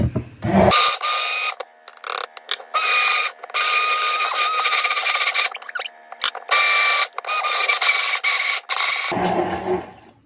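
Yorkshire pudding batter being whisked with flour in a bowl, a steady scraping, rasping whir that runs in long bursts with brief pauses, fairly loud and close, with no talking.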